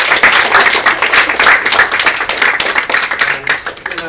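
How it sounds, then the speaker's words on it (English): A crowd at a performance of an original stage play claps loudly and steadily, a dense close round of applause with no talk. "So can we have a round of applause for those guys?"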